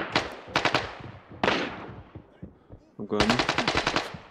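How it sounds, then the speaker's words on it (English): Rapid automatic gunfire from a first-person shooter game, with loud bursts of closely spaced shots at the start, a single heavy blast in the middle and a long rattling volley near the end, while someone speaks briefly. "They keep shooting all day long."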